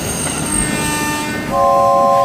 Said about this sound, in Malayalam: ആ ട്രെയിൻ വരുന്നുണ്ട്